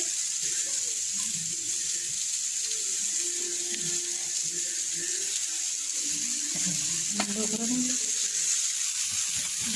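Water is poured into a pan of frying chowmein and stirred in, a constant hiss and splash with a few scraping and clinking stirring sounds near the end.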